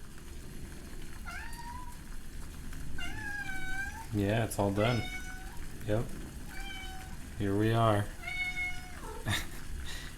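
A loud, needy house cat meowing repeatedly, several drawn-out rising and falling cries close by, interleaved with brief speech from a person indoors.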